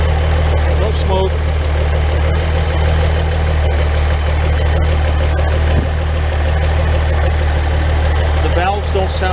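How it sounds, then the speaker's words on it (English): A loud engine idles with a constant low rumble and steady vibration, broken by a few faint clicks and rattles. "we can see the engine shake a little bit. It feels a lot better."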